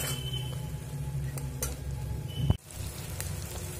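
Spices and tomato frying in oil in a pan for a potato and fenugreek leaf curry, with a steady sizzle throughout, a few light scrapes of a stirring utensil and one sharp clack of metal against the pan.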